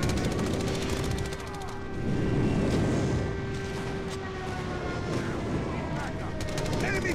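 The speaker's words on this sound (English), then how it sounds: "Friendly airstrike incoming." Dense, continuous rumble of airstrike explosions and heavy battlefield noise in the mobile shooter Call of Duty Mobile, a loud wash of blasts with a steady tone running through it and a swell in the middle.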